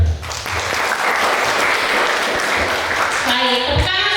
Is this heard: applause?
yes